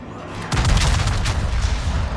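Ship main guns fire in World of Warships naval combat, a sudden heavy boom followed by a rumbling roll of gunfire that lingers loudly for the rest of the moment.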